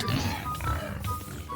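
Pig oinking in a Minecraft-style block-building minigame, short grunting snorts over continuous game noise and chatter.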